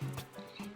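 Horse whinny from an animal sorting game, a short high neigh with a wavering tone over a faint clip-clop, brief and moderately loud.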